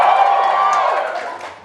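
A comedy club audience gives a brief burst of cheering and whoops that quickly fades within a couple of seconds.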